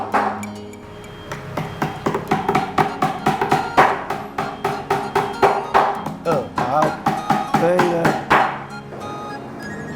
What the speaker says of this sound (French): Il faut maintenant la clouer définitivement sur le corps.